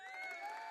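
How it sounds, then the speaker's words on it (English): Canned applause effect played on a podcast, a short burst of crowd clapping and cheering heard alone, fairly faint and steady throughout. "There's applause. Hit the applause one."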